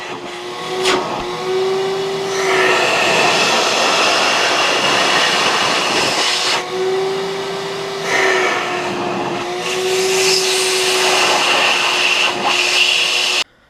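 A shop vacuum drones loudly and steadily, its motor whine dipping briefly and recovering a few times before it shuts off abruptly.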